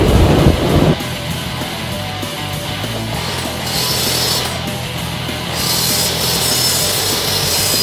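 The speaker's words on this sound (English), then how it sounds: "I'm gonna cut some timber. It's a 8x2 timber, H3. It's a little bit hard timber, but yeah. Using my Dropzone Makita." A Makita drop saw slices through hard 8x2 H3 treated timber, a steady loud grinding and rubbing cut that starts with a short burst and runs continuously, with shifts in pitch as the blade works through the wood.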